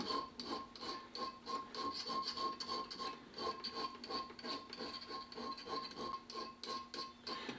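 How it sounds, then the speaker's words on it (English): A hand file works metal spots on a Remington 30-06 rifle in quick, even back-and-forth strokes, a close rhythmic rasp, fairly quiet, with no speech. "Now, when filing these spots, you want to be real careful that you're constantly moving the file in different orientations"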